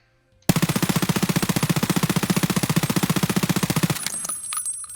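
A P90 firing SS190 rounds in the shooter game Escape From Tarkov, one continuous rapid burst of about three and a half seconds with evenly spaced loud shots, then a fading echo and mechanical clicks.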